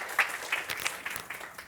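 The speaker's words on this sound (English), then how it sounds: "Big round of applause to him." Audience applause for a guest chef at a cooking demonstration during a visit by a celebrity cook, a brief, soft, diffuse patter of clapping that stays fairly quiet and steady without a clear peak.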